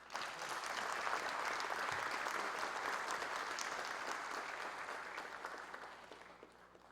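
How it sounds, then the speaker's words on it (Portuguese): An audience at a formal ceremonial session of a lawyers' institute gives a sustained round of applause for the IASP. The clapping is dense and steady and gradually fades toward the end. "Uma salva de palmas para o IASP."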